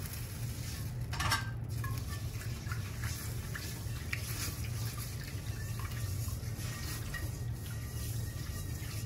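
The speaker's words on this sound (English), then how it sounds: "Here we use the water to clean the pan." Running tap water splashes steadily while a carbon steel pan is rinsed and cleaned in a sink, a continuous soft wash with a few brighter splashes early on.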